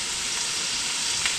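Meat browns in a hot pan for shepherd's pie, giving a steady, close, bright sizzle and crackle that continues evenly with no talking.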